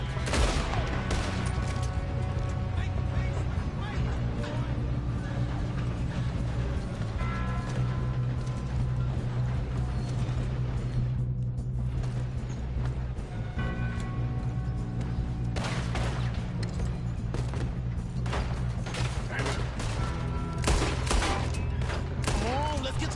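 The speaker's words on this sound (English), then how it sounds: "Are you shooting?" Sustained gunfire in Red Dead Redemption 2 runs as a dense, continuous fusillade of overlapping shots, with voices talking over the steady battle noise.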